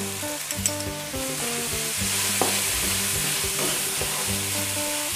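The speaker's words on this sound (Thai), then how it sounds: "ผัดให้เข้ากันนะคะ แล้วก็ใส่ซอสมะเขือเทศค่ะ1ช้อนค่ะ" Fried rice with fermented pork (naem) and ketchup is stir-fried in a hot pan, a loud steady sizzle with scraping stirs and clanks recurring throughout, no talking.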